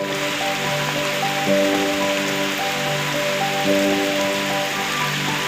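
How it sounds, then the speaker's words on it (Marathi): Heavy rain pours down steadily at a forest river, a dense hiss of drops drumming on surfaces, with faint tonal hum in the background throughout. "हे बघा पाऊस लागलाय आता दुपारचे तीन वाजलेत ना पाऊस लागलाय भरपूर"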